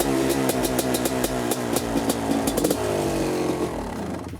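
A two-stroke motorcycle engine running a premix of about 5% oil revs loudly and continuously, its raspy pitch rising and falling in repeated bursts close by.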